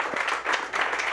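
A brief burst of audience applause at an evening talk event, close and fairly loud clapping lasting about a second.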